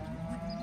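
Cattle mooing on a farm, a sustained low lowing call that runs steadily through the short moment at moderate, close-up loudness with no talk over it.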